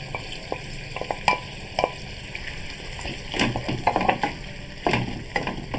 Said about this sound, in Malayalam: വിനാഗിരിയും വെള്ളമൊക്കെ നന്നായിട്ട് തിളച്ചിട്ടുണ്ട്.